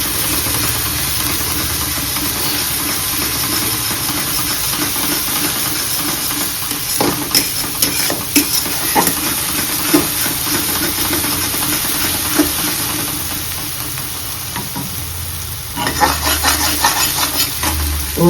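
Onions frying in butter in a pan, stirred nonstop, with a loud continuous sizzle and a run of scraping strokes from the spoon that grows busier toward the end.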